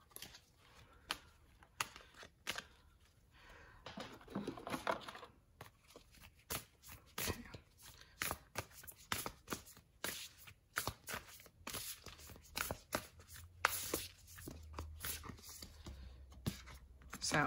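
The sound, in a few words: shuffling and pulling cards for a reading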